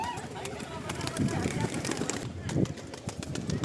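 Pigeons coo softly in a rooftop loft beside a water tank, low murmuring calls set within a steady wash of outdoor noise.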